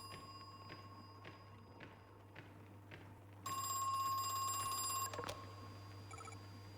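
A telephone rings inside the horror video game Crow Country with a loud, shrill electronic trill lasting over a second. It rises above a low ambient hum and quiet, soft thuds like footsteps.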